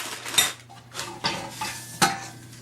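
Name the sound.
metal stove pipe sections being handled and fitted together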